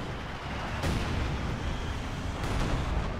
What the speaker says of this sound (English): Using all their artillery, just hit this general vicinity.